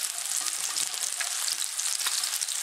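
Food seasoned with garlic powder is stirred in a hot pan, a steady bright sizzle broken by soft scraping and clicking strokes of the utensil, close and alone.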